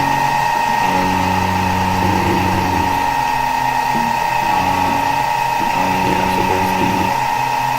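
An aluminum base plate for a Honda AF18 Dio scooter engine with a Stage6 R/T95 kit is machined out; a loud, steady, tonal mechanical whine runs without a break, with rougher cutting texture below.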